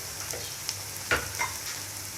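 Onions sizzle in oil over a medium flame for mixed vegetable sabzi, a steady hiss broken by a few soft stirring scrapes.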